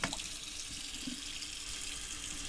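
Water running steadily from a newly plumbed hot and cold faucet on a sailing boat, a close, even rushing flow with a brief splash at the start, no voices.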